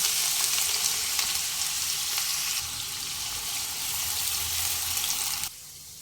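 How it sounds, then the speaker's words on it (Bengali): Chopped onion sizzles in hot mustard oil in a wok for a Bengali fish dish, a loud, dense, steady frying hiss heard alone that drops suddenly quieter near the end. "পেঁয়াজ কুচি ভেজে নেব ভেজে বেরেস্তা বানিয়ে নেব"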